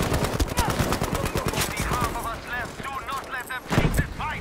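Rapid gunfire in the video game Battlefield 5 crackles in dense, fast bursts at the start, then thins into scattered shots and a late loud blast, mixed with game effects.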